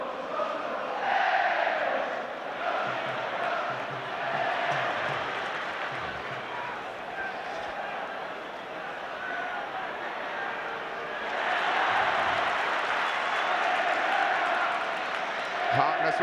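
A crowd of just under 44,000 at a Liverpool v Spurs football match roars and cheers after a goal, a broad sustained wash of noise that swells again near the end, with commentary over it.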